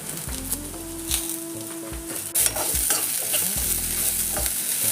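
Dried red chillies and a handful of curry leaves roasting in oil for a country chicken curry, heard as a close, steady sizzle with scraping stirs, and the frying grows louder partway through.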